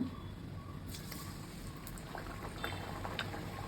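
Hot oil in a pan heating for frying nippattu in a home kitchen: a soft, steady bubbling hiss with faint scattered crackles, close and continuous throughout.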